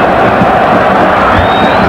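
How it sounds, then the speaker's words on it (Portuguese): A football stadium crowd at a Bundesliga match between Bayern Munich and Schalke 04 roars in a sustained, dense wash of noise after a play. The reaction stays loud and steady throughout, and a whistle may rise faintly near the end. "A reação da torcida foi imediata."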